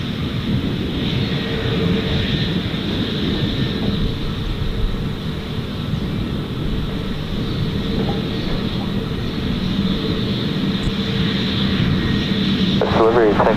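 A plane taking off at Gold Coast Airport gives a steady, loud, broad engine roar that persists throughout, with faint tower radio chatter mixed underneath.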